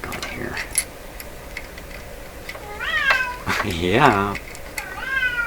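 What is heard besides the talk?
cat meowing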